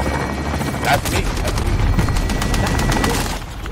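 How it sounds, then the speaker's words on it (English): Helicopter and gunfire from a chopper gunner killstreak in the Warzone video game, a loud continuous rotor roar with dense bursts of shots over about four seconds. "Allied chopper gunner arriving now."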